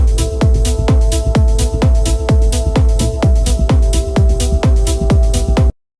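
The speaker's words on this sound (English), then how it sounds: "So the Ableton version sounds like this" Melodic techno track mastered with Ableton's stock plugins, with a steady four-on-the-floor kick, crisp hats and sustained synth tones playing loud and alone, cutting off abruptly near the end.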